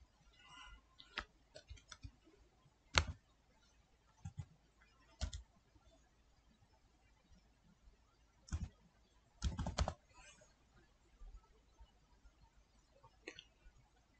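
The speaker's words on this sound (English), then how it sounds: "Now type username like any name you like." Typing on a computer keyboard while entering a username during Windows user account setup: scattered, quiet key clicks arriving in small irregular clusters with pauses between, close and faint.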